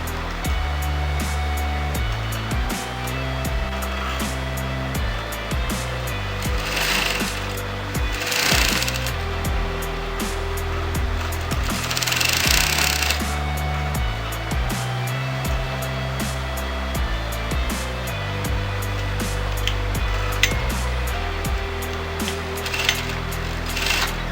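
A sewing machine stitching the folded corner of a boat neck princess cut blouse, running in a steady rapid mechanical rattle with short pauses and restarts, close up.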